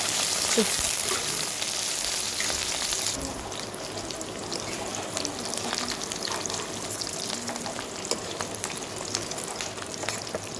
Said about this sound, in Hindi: एक प्याज का पेटल्स लिए उसको हम पहले अच्छे से फ्राई कर लेंगे